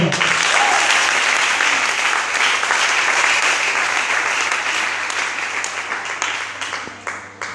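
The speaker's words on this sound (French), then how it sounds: "J'aimerais que tu acclames pour toi" A church congregation applauds continuously at a worship service, a dense, loud wash of clapping that holds steady and slowly thins toward the end.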